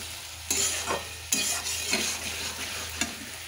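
Chicken with spices frying over high heat in a pan, a loud, close sizzle broken by several sharp scraping stirs at uneven intervals, with no talking.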